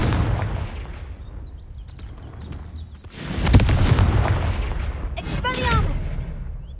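The Confringo fire spell fires in Hogwarts Legacy, a sudden loud blast near the midpoint followed by a roaring, crackling burst, then bright sparkling magical effects amid ongoing game ambience.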